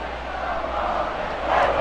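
Broad, steady murmur of a baseball stadium crowd during a game, swelling slightly louder toward the end, with no clear voices standing out.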